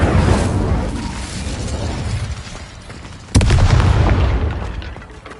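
A fire spell blasts out in the Hogwarts Legacy video game on PlayStation 5: a loud sudden boom and whoosh of flame that bursts in abruptly and rolls on before fading out, with no talk over it.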